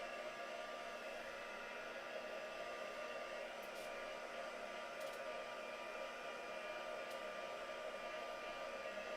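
A hair dryer drying paint on a craft project blows in a steady, even whir, faint and unbroken throughout, with a few tiny clicks.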